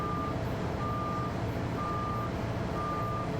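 A truck in Farming Simulator backs up, its reversing alarm beeping four times at an even pace over a steady engine drone, clear and close with no talk.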